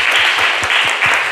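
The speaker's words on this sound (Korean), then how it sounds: "박수로 환영하겠습니다" Church congregation applauding to welcome a first-time newcomer during a Sunday worship service, a steady wash of many hands clapping together, fairly loud and continuous for a short burst.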